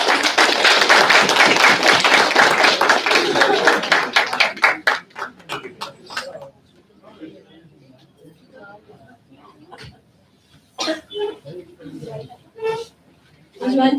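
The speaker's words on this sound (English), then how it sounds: "So big round of applause for her." At a corporate company meet, a short burst of audience clapping is followed by a sparse, quieter stretch with isolated claps and taps.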